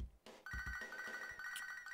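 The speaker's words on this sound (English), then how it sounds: "Oh, we've got a phone call from Bob." A phone-call ringtone in Pokémon HeartGold, a short electronic trill repeating steadily and clearly over two seconds, with no talking.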